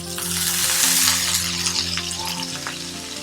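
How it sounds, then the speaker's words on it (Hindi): Minced meat frying with onion and cumin in a pan, a loud continuous close sizzle with small crackles and a few light stirring clinks, no voices. "लो टू मीडियम पे हम इसको फ्राई करेंगे प्याज के साथ और जीरे के साथ।"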